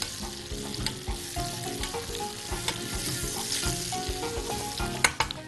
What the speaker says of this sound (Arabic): نقلب الفراخ بتاعتنا